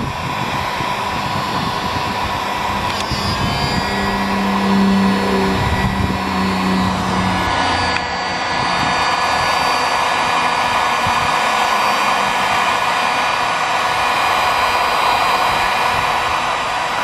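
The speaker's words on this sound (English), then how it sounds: "All right, so here we go with the heat gun." A heat gun set to high blows steadily while restoring plastic bumper trim on an EF Civic, a loud continuous fan-and-heater whoosh that holds an even drone from start to finish with small shifts in tone.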